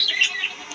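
Several small birds in an indoor bird room kept alongside guppy fish, giving quick high chirps and tweets, close and clear in a short burst.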